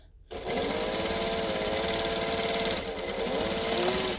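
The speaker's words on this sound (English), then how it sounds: "I just need to stitch up the shoulder seam" A sewing machine stitching a shoulder seam starts abruptly and runs in a loud, continuous, rapid chatter close by, with no voices over it.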